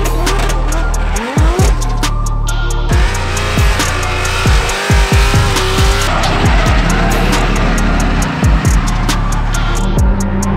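Drift car at a drift event, tires squealing loudly and continuously as the engine roars and bangs in repeated bursts, recorded up close.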